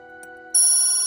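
A telephone rings loudly and electronically, starting abruptly midway after a quieter tonal lead-in, at a military unit site during a Marine Corps incident investigation.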